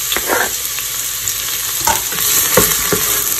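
Onions frying in six tablespoons of hot oil in a saucepan for harira, a steady close sizzle with occasional soft scrapes of stirring and no voices.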